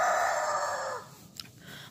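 Chickens call out close by: one loud, drawn-out squawk lasts about a second, then a brief pause gives way to a couple of faint, short clucks.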